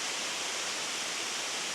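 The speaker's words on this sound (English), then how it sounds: "It's a very tall waterfall." Tall waterfall at Kondilla Falls, heard as a dense, steady broadband rush of falling water with no pauses or voices.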